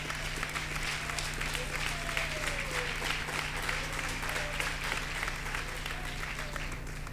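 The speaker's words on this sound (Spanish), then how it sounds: "Si es para Dios ese aplauso," A church congregation applauds steadily and densely for the whole stretch, a continuous wash of clapping over a low steady hum, with a faint voice now and then underneath.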